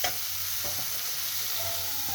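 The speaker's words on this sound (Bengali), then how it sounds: "যেহেতু একটু মশলাটা ভাজা হচ্ছে" Spices frying in a pan with a little sweetener while cooking paneer with coriander leaves and sesame, a steady close sizzle with a few soft stirring scrapes, no talk.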